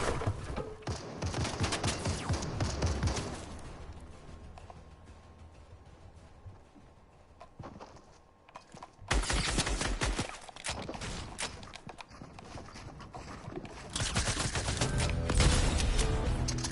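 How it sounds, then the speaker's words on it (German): Video game gunfire crackles in dense bursts, loud at first, easing into a quieter stretch, then erupting again in heavy volleys with booming impacts toward the end. "Da ballern welche, da ballern welche."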